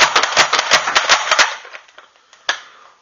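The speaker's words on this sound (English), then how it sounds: "This is slam fire on the Strongarm." A Nerf Strongarm blaster slam-fires darts in a quick burst of about eight sharp snapping shots over a second and a half, close and loud, followed by quieter clicks and one last snap.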